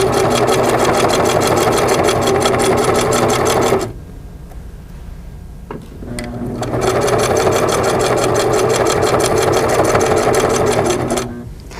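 A Singer sewing machine stitches quilt binding in the ditch, running in two long, loud, steady mechanical bursts separated by a quiet pause with a faint click.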